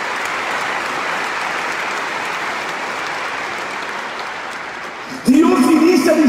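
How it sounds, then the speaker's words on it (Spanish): A church congregation applauds loudly and continuously for several seconds, dense clapping filling the space, before a voice cuts in over it at the end. "Un aplauso grande a la palabra de Dios."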